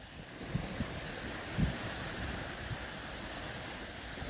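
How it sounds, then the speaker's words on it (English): Ocean waves wash onto Kuruta Beach as a soft, constant surf roar, faint and distant, with a few quiet bumps of wind against the microphone and no talking. "So finally I get to show you the beach I was talking about. Kuruta Beach."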